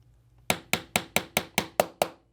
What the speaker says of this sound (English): And then we're going to tap the rest of this pin through.